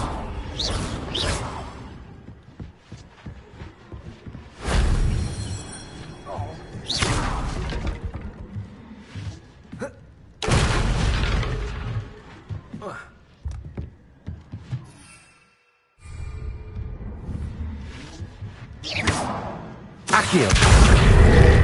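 Confringo explosive spell bursts in Hogwarts Legacy, several loud booming blasts with whooshes spaced across the stretch, separated by quieter gaps, with talk in between.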